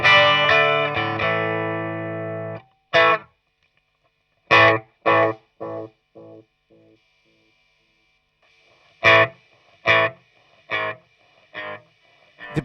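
Fender Telecaster chords and plucked notes through a Vox AC30 and delay pedal ring out alone, each repeating as fading echoes that trail off into silence before more notes are played.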